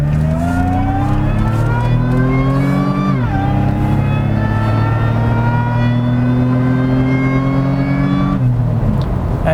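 A supercharged 2011 Nissan Xterra, set in high performance mode, pulls away hard from a stop sign. The engine note climbs steadily with a loud whine, drops at one gear change, then rises again through a second gear, close and with no talk.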